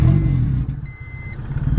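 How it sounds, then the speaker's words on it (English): A Honda engine with a surging, bucking hesitation fault around 1500 RPM. It gives a loud, close rumble whose level wavers, with a brief electronic beep midway. "about 1500 RPMs, it should kind of surge"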